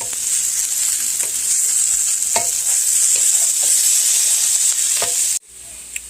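Hash browns fry in a pan, with a continuous close sizzle and occasional scraping stir sounds, then the sizzle drops away abruptly near the end; no voices.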